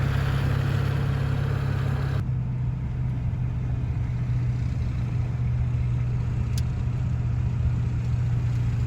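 A car driving on an icy, snowy highway toward Kamloops gives a steady, close engine and road rumble with tyre noise that holds constant throughout, without any talking.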